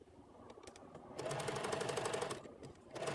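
A sewing machine stitches a skirt placket with the stitch length set to 3.5, starting with a few light ticks before settling into a steady, fast mechanical chatter that runs for about two seconds and then briefly eases off.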